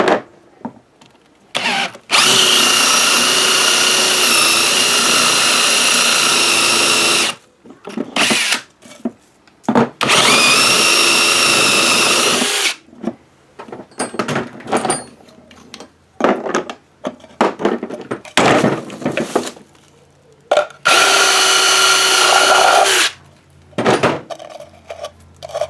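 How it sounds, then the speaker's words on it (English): A loud power drill drives a step bit in several long bursts, stopping between runs with brief clicks and handling clatter. "Chuck it up in the drill, and then we will drill it out"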